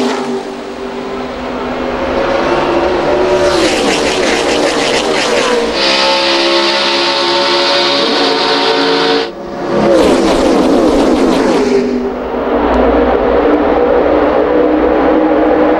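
NASCAR stock cars roar off the green flag at the 2012 Budweiser Shootout at Daytona, a loud continuous wall of engines revving and passing close, with pitch sweeps as the pack surges by and no pause in the noise.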